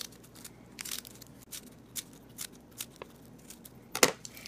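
Scissors snipping thin slivers into folded paper for a paper tree, close and quiet: a series of short, crisp cuts spaced irregularly, with one sharper snip near the end.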